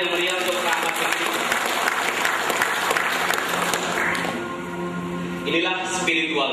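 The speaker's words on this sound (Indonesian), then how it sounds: "Berikan tepuk tangan yang meriah untuk Ahmad Fikri." Lively applause from an audience at a religious motivational talk, dense and steady throughout, with music or voices mixed in underneath and a brief shift near the end.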